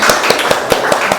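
Audience clapping after a group presentation at a school event, a few sharp claps spaced irregularly, fairly close and brief, with no voices.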